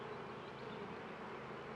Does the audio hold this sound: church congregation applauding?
no